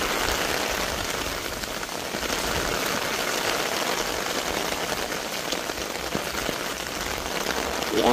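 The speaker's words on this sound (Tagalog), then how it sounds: "Yan ang tubig sa ulan." Steady rain falls and patters on surfaces, a dense, even hiss that runs unbroken throughout with no talk.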